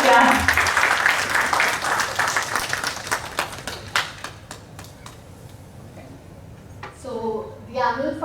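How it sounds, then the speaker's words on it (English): Audience at a Class 3 parent orientation clapping, a dense burst of applause that thins into scattered claps before a voice speaks near the end. "I want you to all to clap."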